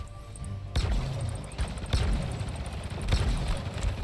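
Video game gunfire comes as repeated bursts and shots, loud and dense, over constant rumble and clutter from the game's mix.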